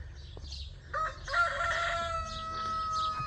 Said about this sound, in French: Petit coq.